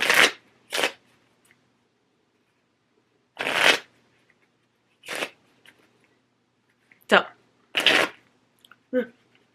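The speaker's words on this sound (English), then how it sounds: "One last shuffle." Playing cards shuffled in several separate brisk riffling bursts with pauses between them, close by, during a tarot-style deck draw game.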